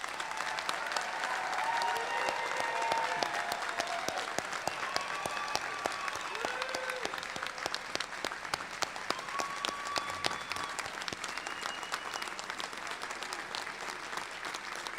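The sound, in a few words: audience applause for graduates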